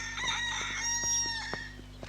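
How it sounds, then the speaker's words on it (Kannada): A rooster-crow ringtone plays from a mobile phone, a bright, harmonic crowing call lasting about two seconds over a steady low hum, with a few soft clicks toward the end. "ಏನಯ್ಯ ಇದು ಕೋಳಿ ಶಬ್ದ? ಕೋಳಿ ಅಲ್ಲಪ್ಪ, ನನ್ ಮೊಬೈಲು."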